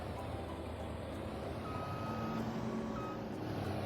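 A farm vehicle drives in Farming Simulator 22, a steady engine drone held throughout with a thin reversing beep sounding intermittently over it.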